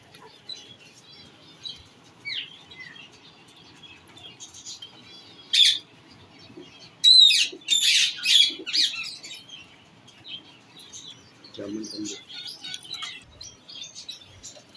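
Pigeons in a loft give sparse, sharp chirps. A busier cluster of calls comes midway, and a brief soft flutter of wings follows in a quiet space with no talk.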